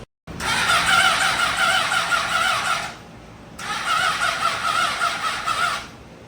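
A rebuilt 2005 Honda CBR600RR motorcycle is cranked twice, each attempt a loud, close whirring starter burst of a few seconds separated by a short pause, with no clear catch.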